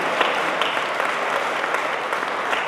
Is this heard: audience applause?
yes